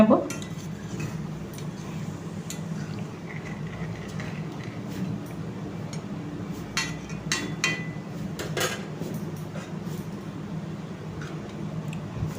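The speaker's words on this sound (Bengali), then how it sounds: "দু মিনিট পরে এলাম এসে একটু নাড়িয়ে দিচ্ছি" Potato and pointed gourd curry stirred in a pot, with a utensil scraping and clinking softly against the metal in scattered light taps over a low background hum, no talking.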